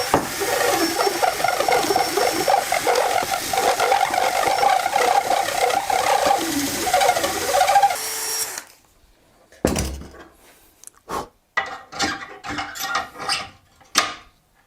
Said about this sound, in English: I have an improvised drum sander. So let's sand this hole until the axle will fit.